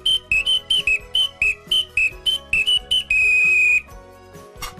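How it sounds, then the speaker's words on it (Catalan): A homemade pasta whistle blown sideways like a transverse flute gives a quick run of about a dozen short, bright piping notes in rhythmic bursts, ending on one longer held tone, close and alone. "Aquest xiulet és molt ràpid."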